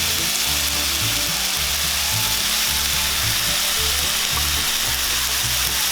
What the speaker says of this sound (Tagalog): Ngayon, pwede na po nating ilagay itong ating naprito kanina na tofu.